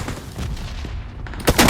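Rapid gunfire from a PUBG Mobile match crackles in quick bursts, with a sharper, louder volley of shots near the end over a busy game-sound background.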